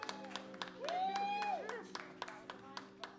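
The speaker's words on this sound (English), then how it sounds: "A round of applause as they return to their seats." A small group gives a round of applause at a neighbourhood fun day as people return to their seats, light scattered claps rising briefly under a nearby voice.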